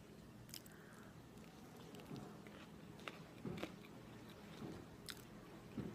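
Biting and chewing on a vegan grab-and-go meal during a taste test, several soft crunchy bites and squishy mastication sounds close to the mic, fairly quiet over a low steady background hum.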